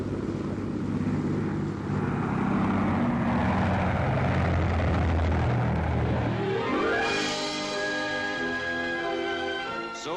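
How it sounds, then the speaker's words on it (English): The Bristol Brabazon, a 100-passenger propeller airliner, in flight around 1950: a steady droning roar of propeller engines that later gains a rising, whining tonal note, with no voices. "the 100-passenger Bristol Brabazon, specially designed to fly direct from London to New York"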